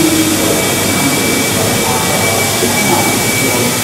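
Steady, loud broadband whirring hum of a hydraulic power pump running at Tower Bridge, continuous and unchanging from start to finish, close by with no talk over it.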